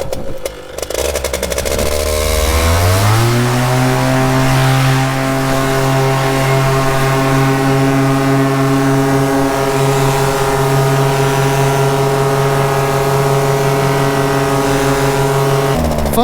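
A paramotor's small gasoline engine starts and revs up for launch in the rain, its pitch climbing quickly to a loud, steady drone with strong buzzing harmonics that runs close and continuous.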